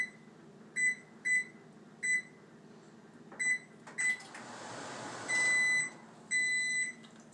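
A microwave oven signals that softened chocolate is done with a series of short high electronic beeps, evenly spaced at first, then a few longer tones, over faint kitchen hum and a brief clatter, with no talking.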